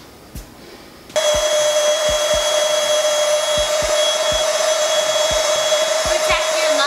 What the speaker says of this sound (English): So I was like, why not just get a rechargeable, you know, air pump, functional